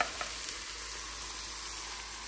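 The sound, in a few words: tomato paste sizzling as it fries in a pan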